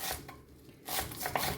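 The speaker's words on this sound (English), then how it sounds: "chop up some coriander greens, leaves and stalk" A knife chops coriander greens, leaves and stalk, on a board: a few quick, crisp cuts in two short bursts with a brief pause between.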